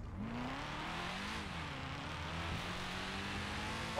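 Motorbikes of a biker gang in a video game riding past, their engines droning steadily, pitch rising and shifting as they go by, at moderate distance with no talk.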